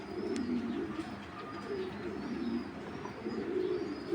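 Two male BRPO club racing pigeons cooing steadily, soft repeated low coos close by with faint chirps from other birds behind.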